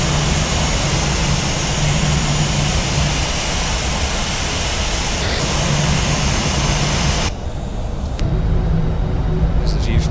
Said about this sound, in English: You can hear the aircraft speeding up for it to maintain 135 knots.